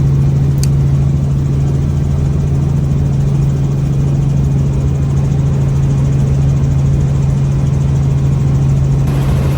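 Steady, loud engine and rotor drone from a small tourist helicopter taking off for a ride over Victoria Falls and the Zambezi River, a constant low hum running unbroken throughout with no talk.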